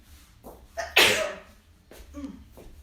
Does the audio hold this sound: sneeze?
yes